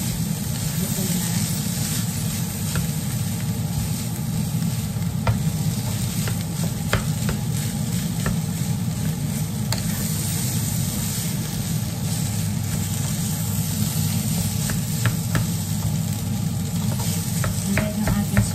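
Salmon fried rice with tuyo being stir-fried in a pan: a loud, constant sizzle with frequent spatula scrapes and clicks throughout, close by, with a voice occasionally speaking over it.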